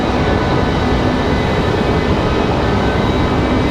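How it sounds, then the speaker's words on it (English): An Icelandair airliner moves out for an evening departure at Raleigh-Durham airport, a loud, steady, broadband jet roar that holds evenly throughout with no voices. "Alright, Iceland. Now on the move, one of my favorite evening departures here."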